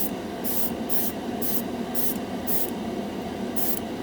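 Spaz Stix Mirror Chrome spray paint hisses from an aerosol can in steady repeated bursts, about seven short sprays in a regular rhythm over a constant background hum, close and fairly loud with no talking.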